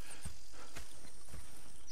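In Red Dead Redemption 2, horse hooves clip-clop steadily over a busy game soundscape with a brief whinny; no speech.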